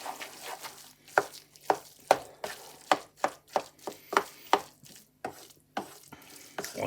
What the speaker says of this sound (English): let's have a little stir around